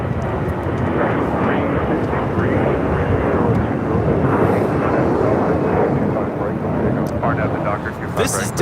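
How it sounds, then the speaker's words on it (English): A Delta Airlines Airbus A321 taking off from LAX, a loud, steady roar of jet engines that fills the whole clip, with a voice speaking over it. "715 taking off to Atlanta on an A321."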